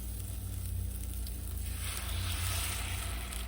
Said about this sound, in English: now I'll add the milk to this mixture